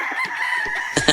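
A rooster crows in a continuous, loud, close call lasting about a second, ending with two sharper bursts; no voices are heard.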